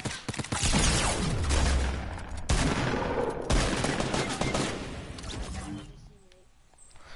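Rapid automatic gunfire from an online PS4 shooter game fills the clip with dense, sustained bursts before tapering off near the end, while players talk over it.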